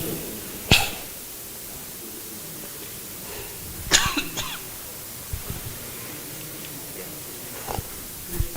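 Sharp coughs break a quiet room during a government housing discussion meeting: one at the start, a louder cluster a few seconds later, then smaller throat sounds toward the end, each close and abrupt with silence between.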